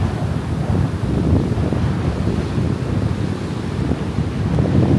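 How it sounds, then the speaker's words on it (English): Wind and ocean waves at Vero Beach roar loudly together, with a constant rush of surf and heavy wind buffeting the microphone, close and unbroken, with no voices. "It's super windy out here."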